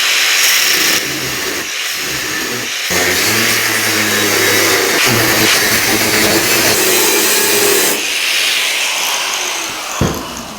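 A cutting wheel bites into a metal bracket on an old rusty project, a loud, continuous grinding whine that stays steady for the whole stretch and cuts off briefly just before the end.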